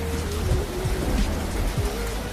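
Rain falls hard in a loud, constant hiss on a village road during the rainy season, close up, with a low rumble running underneath.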